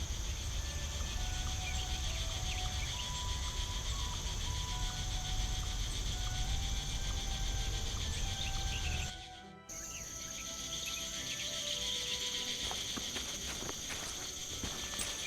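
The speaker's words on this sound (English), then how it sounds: "I think I can hear a cricket chirping in the barrel." Steady high chirping of crickets in a video game blends with ambient game sounds and light footsteps, then briefly cuts out before resuming a bit quieter.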